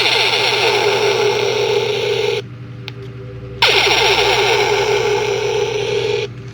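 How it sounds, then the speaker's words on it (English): A small speaker in the base of an AMT Star Trek USS Enterprise 1:650 scale model plays phaser sound effects, a loud sustained electronic whine that cuts out briefly and then resumes. "She's got sound effects. We got phasers and photon torpedoes."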